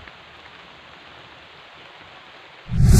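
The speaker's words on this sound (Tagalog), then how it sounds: "Lumalakas na ang ulan mga kapatid." Steady rain falls near a mountain trail by the sea, a soft even hiss throughout, ending in a sudden loud burst of close noise.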